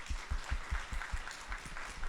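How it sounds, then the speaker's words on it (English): A meeting audience applauds steadily in a room, a dense, even patter of many hands clapping at moderate distance with no voices over it. "So we really do want to give you a round of applause"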